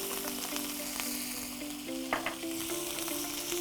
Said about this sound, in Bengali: দিয়ে হালকাভাবে একটু কষে নিচ্ছি। কষে নিচ্ছ মশলাটা পুরোটা।